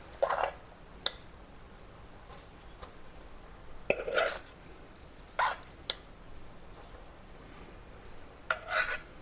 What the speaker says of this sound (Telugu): అన్నం అంతా కూడా బాగా బెల్లంలో కలిసిపోయేటట్టు మనం బాగా కలిగి పెట్టాలి.